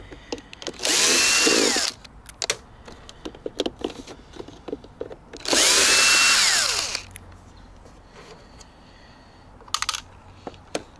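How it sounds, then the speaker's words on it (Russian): A power screwdriver backing out screws from a Makita DCM501Z coffee maker, two long whirring bursts of the motor separated by small clicks and handling taps, close and alone. "Откручиваем еще 2 винта."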